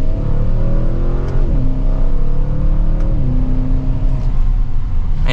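A 2024 Audi RS7 pulls hard from second gear, its engine note rising steadily with two quick upshifts that drop the pitch before it climbs again, loud and continuous from inside the cabin.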